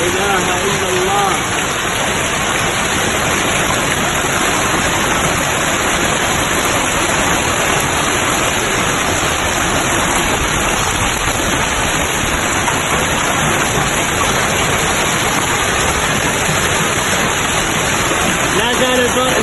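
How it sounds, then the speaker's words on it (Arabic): Heavy hail with large stones pouring down in Al-Dilam, Saudi Arabia, a dense, loud, continuous roar of impacts that fills the whole stretch without letting up. "لا زال البرد يهطل ما شاء الله تبارك الله. حبات كبيرة."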